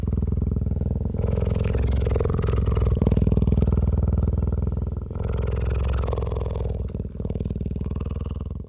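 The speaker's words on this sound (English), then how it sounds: "I recorded this remarkable close-up purring sound" A deep, rumbling purr close to the microphone, continuous with slight breathy pauses, low and steady like a large cat.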